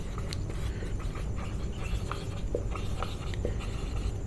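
Writing on a board during a math class, heard as faint, scattered scratchy strokes under a constant loud rumbling background.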